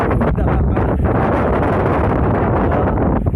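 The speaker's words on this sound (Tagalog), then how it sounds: "Lakas talaga ng hangin at lakas ng pagdating." Strong wind roars and buffets the microphone steadily and loudly throughout, a dense rushing noise with no letup, at People's Park in the Sky, Tagaytay City.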